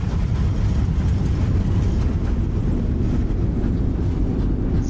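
Airliner engines roaring in reverse thrust during the landing rollout in Microsoft Flight Simulator, a loud, steady low rumble that holds evenly without a break.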